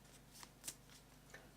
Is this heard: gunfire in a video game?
no